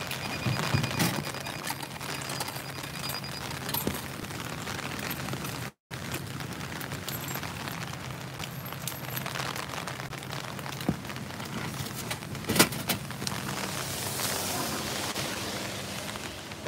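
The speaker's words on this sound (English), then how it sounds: "God, the rain's really coming down now." Steady heavy rain pours down on a Tokyo street, a dense even hiss that goes on throughout, broken by one brief dropout and a few sharper splashes or knocks.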